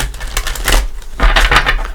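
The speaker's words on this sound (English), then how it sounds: "but I do like to give it a shuffle or two with you here." Tarot deck being shuffled by hand, two short bursts of riffling, slapping cards close to the microphone, fairly loud, with a brief pause between them and no talk.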